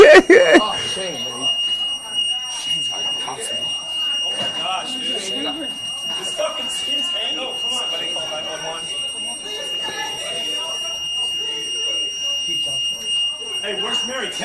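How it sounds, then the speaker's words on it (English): An alarm going off, a steady high electronic tone held without a break the whole way through, with people talking loudly over it. "Then you're gonna hear the alarm going off."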